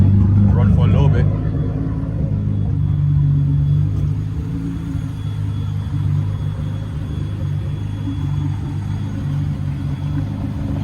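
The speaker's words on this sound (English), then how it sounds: "I'm gonna let it run for about 5 minutes." A car engine idling while warming up, a low steady rumble that is loudest at the start and then settles to an even drone, with a voice talking over it.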